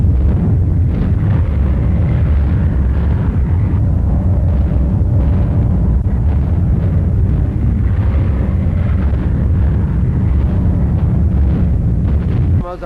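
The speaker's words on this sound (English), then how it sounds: "Explode." Wartime explosions from a World War II–era newsreel: a loud, continuous roar that rumbles without pause for the whole stretch, then drops off abruptly at the end.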